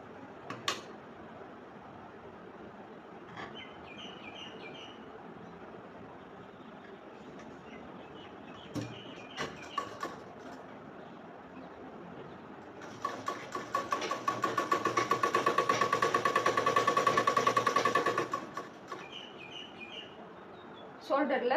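A sewing machine stitches a frock seam, first as soft intermittent mechanical clicks and hums, then as a loud, steady close whirr of running stitches that stops abruptly, with speech nearby.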